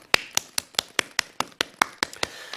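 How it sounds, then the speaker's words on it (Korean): Hands clap about a dozen times in a quick, even rhythm, each clap sharp and close, like a single person applauding for a couple of seconds. "박수!"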